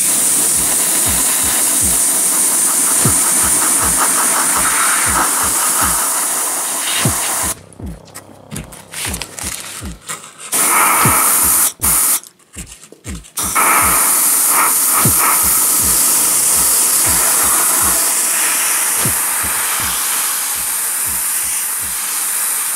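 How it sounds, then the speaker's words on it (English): Aerosol spray can hisses black paint onto a hobby model aircraft in long continuous bursts, broken by brief pauses, with regular soft taps repeating underneath. "I'm gonna do a quick spray of black right here."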